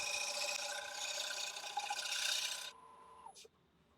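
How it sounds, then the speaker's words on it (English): A 3/8 inch ball gouge scrapes steadily against a spinning elm bowl on a wood lathe with a loud rasping hiss and a faint whine, then the cut stops and the machine winds down. "just switched over now to a 3/8 inch ball gouge, just doing the last cut on the outside"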